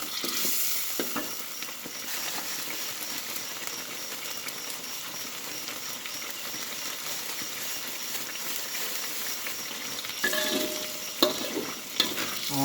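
Oil sizzles steadily as a curry paste of garlic, turmeric, fingerroot and shrimp paste is stirred and fried in a pan, with scraping spatula strokes and a few louder clatters near the end; no talking.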